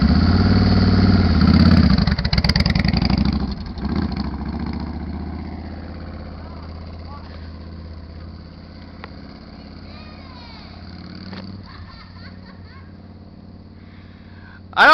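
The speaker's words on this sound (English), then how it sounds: "you have to get the bike rolling and then let the clutch the rest of the way out" A beginner rider's motorcycle engine runs while the clutch is worked, giving a loud, steady low rumble that swells in the first few seconds and then settles into a quieter idle, with a sharp bump at the very end.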